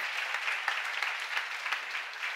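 An audience claps steadily through a church sermon seminar, a dense, even patter of many hands with faint scattered louder claps, sustained across the whole moment without any voice.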